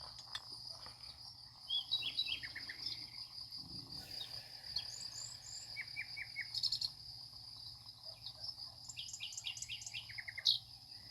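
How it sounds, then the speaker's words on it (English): Several birds sing outdoors in late summer, giving scattered high chirps and short trills over a steady chorus of crickets. The birds sound moderately distant and soft, with no voices. "These are the last few birds singing before we go into that cooler weather"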